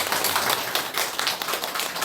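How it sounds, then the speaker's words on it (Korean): A church congregation applauds harder and louder at a Thanksgiving service, with many hands striking in a dense, vigorous burst that fills the room. "더 세게 한번 쳐주십시오."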